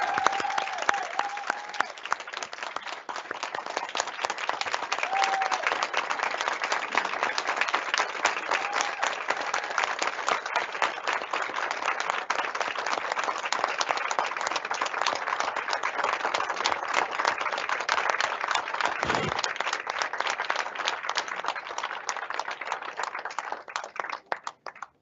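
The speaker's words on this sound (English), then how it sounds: "So we could give her a round of applause." A room of attendees at a school district board meeting claps steadily for a long stretch, a fairly distant, moderately loud wash of hand claps with faint voices, lasting around twenty-five seconds before tapering off.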